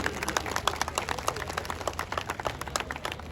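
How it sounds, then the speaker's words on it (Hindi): Crowd at the inauguration of the Maharana Pratap sports ground claps steadily in dense, continuous applause at moderate distance, with no talk over it. "मैं चाहूंगा आप लोग जोरदार तालियां बजाएं और आपका स्वागत करें"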